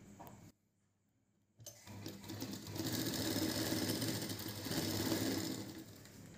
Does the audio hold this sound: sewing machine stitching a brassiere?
yes